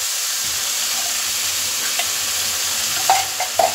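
Ground white and black mustard paste goes into hot oil for a Bengali eggplant and hilsa dish, giving a steady, even sizzle and hiss with a few sharp spatters and clinks of stirring near the end.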